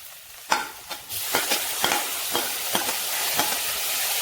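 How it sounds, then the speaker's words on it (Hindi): Masala spices roast in a hot pan with a rising sizzle, while a spatula stirs them in a series of rhythmic scraping strokes, roughly two per second, close and fairly loud. No talking. "अब हम सभी मसाले को अच्छी तरह से भून लेंगे।"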